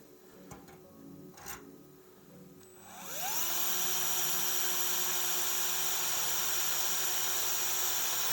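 A drill whines up to speed and runs steadily while pilot holes are bored through aircraft wing bottom skin, a high continuous buzz after a few quiet taps.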